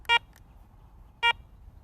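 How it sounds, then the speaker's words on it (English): A Garrett ACE 200 metal detector powers on with two short, clear electronic beeps about a second apart, each a bright tone set against a quiet background. "To power on the detector, simply press the power button."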